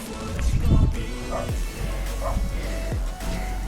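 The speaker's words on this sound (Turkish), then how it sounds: "İleride köpekler var." A few scattered dog barks and yips at moderate distance over a steady, noisy background rumble, heard from inside a water tower.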